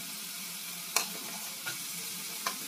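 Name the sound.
carrots frying in refined oil in a pan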